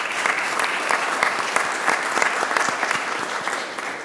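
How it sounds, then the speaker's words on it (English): Steady, even applause from a seated audience at a Trinity Metro board of directors meeting, a continuous wash of many hands clapping for several seconds without a break. "round of applause for Kelly"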